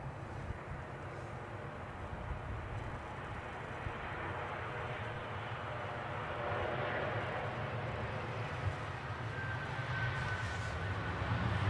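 Air France airliner at Edinburgh airport on a windy day, its jet engines a steady distant rumble that slowly swells, with no voices.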